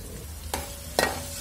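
Faint sizzling of ginger and garlic frying in a pan, broken by two quick scraping stirs, with low background hum.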